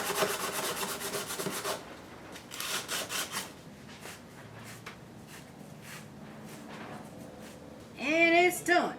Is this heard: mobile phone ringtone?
no